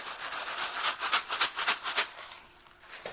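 A box of small dry macaroni shaken in quick rhythmic bursts, a crisp rattling patter repeated several times before fading to quiet.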